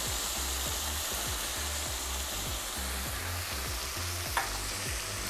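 Half a pound of frozen lima beans sizzles loudly in a pan with bacon, a steady crackling fry heard close up with a low rhythmic pulsing underneath and no voices.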